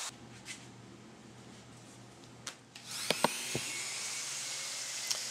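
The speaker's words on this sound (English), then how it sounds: "So here I'm just routing around the edge" A router trims the edge of a wooden cutting board made of 3/4 inch boards, starting faint then surging into a high, steady whir about three seconds in, with a few sharp clicks, close and alone.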